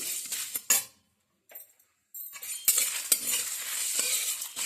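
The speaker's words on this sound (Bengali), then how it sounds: "এইগুলো আমি আগে একটু ভেজে নেব।" Whole spices sizzle and fry in hot oil while a spoon stirs and scrapes the pan, with a brief quiet gap before the loud, steady sizzling resumes close by.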